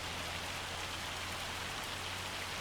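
Rain bucketing down in Farming Simulator 25, a constant broadband patter on a tractor with a low engine drone underneath, soft and even throughout.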